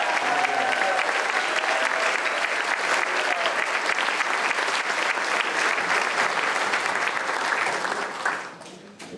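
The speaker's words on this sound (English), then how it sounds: "So I think we all give Mr. Banerjee a big round of applause." Applause for Mr. Banerjee at a Grade 11 graduation ceremony: a large audience claps steadily and loudly for about eight seconds before the clapping thins and tapers off at the end.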